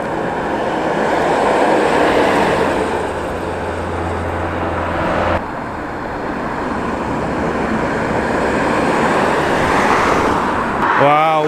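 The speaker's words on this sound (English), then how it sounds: "What a lovely little lorry that is." A classic Foden lorry passes on a road, its engine building into a loud, close rumble that swells and fades. Other traffic is mixed in, and voices can be heard over it.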